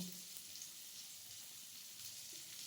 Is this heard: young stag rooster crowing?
no